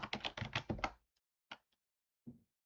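Someone types on a computer keyboard in a rapid burst of close, crisp keystrokes, then stops. A few separate taps follow in the quiet.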